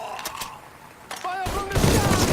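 Soldiers firing guns in the video game Mafia 3, with a few sharp shots early on and then dense, continuous gunfire building beneath shouting voices.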